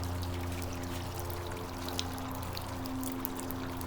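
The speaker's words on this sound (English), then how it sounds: "it was a bit difficult to get the water to run down" Water pours steadily down a hand-carved stone fountain, a continuous close splashing flow with a low steady hum beneath and no voices.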